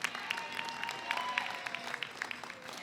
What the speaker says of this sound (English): Give a round of applause to our amazing staff.